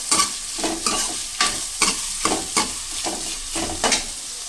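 Chopped onions frying in hot oil for Jammu-style red rajma, with a steady sizzle and repeated scraping strokes of a spoon about twice a second, close and alone with no voices.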